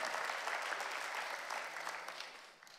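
Audience at a wind ensemble concert in Heerhugowaard applauds, steady clapping filling the hall at moderate distance and tapering slightly at the end.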